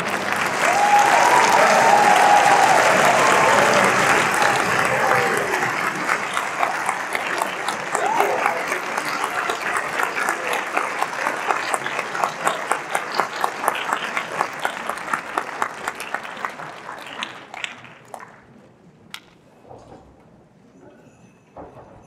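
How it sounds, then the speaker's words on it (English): A winter concert audience of a high school instrumental music program breaks into loud, sustained applause that slowly thins into scattered claps and fades out near the end. "All right, can we give Miss Vegas another round of applause, please?"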